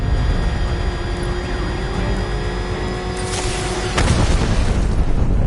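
Grenade blast in Batman: Arkham Knight, a sudden broadband boom near the four-second mark over a continuous game soundscape of engine hum and sustained tones, louder and rougher after the burst.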